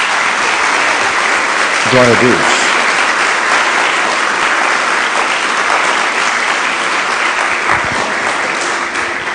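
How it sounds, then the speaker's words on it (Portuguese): A church congregation gives sustained applause during a sermon, a loud, even roar of clapping throughout, with a voice briefly calling out in praise near the start. "Dê uma salva de palmas a Jesus."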